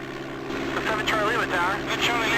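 A Piper Cherokee's propeller engine drones steadily through its takeoff roll in the DOS game Flight Simulator 5.1, a continuous hum beneath radio-style talk.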